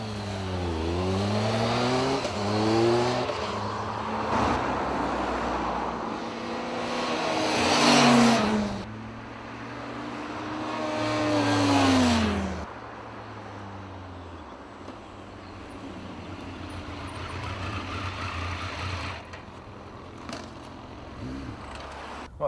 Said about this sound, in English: John from Bike Magazine, he's going around and looks like he's having a good time